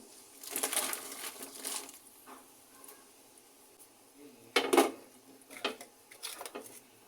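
Clattering, crunchy sounds of mixed vegetables tumbling into a pot of boiling water for sayur asam, with a few sharper clinks and rustles, fairly quiet and close.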